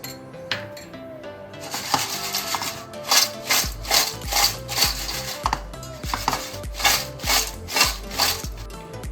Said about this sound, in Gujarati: આ મરીનો પાવડર અને સંચરનો પાવડર છે ને એ આપણે મિક્સ કરવાનો છે